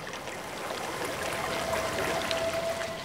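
Rainwater trickles and splashes into puddles collected in tank tracks on compacted military training ground soil, a soft continuous watery patter, faint and close.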